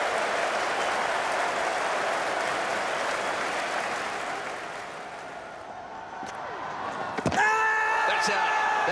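Cricket crowd at an Ashes Test match cheering and applauding as the ball races down the hill to the boundary, a loud sustained roar that dips slightly, then sharp claps and a swell of noise near the end.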